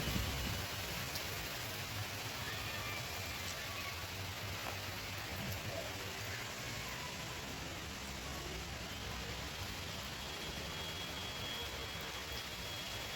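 Steady, soft rain falls continuously in a windy garden, a faint even hiss with no voices.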